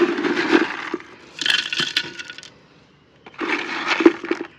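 Gravel or metal chips poured into an Adenium plant pot for drainage, in two separate rattling bursts with a pause between, close and fairly loud.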